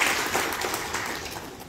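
A crowd applauds with a dense, continuous patter of clapping that gradually fades slightly over a couple of seconds.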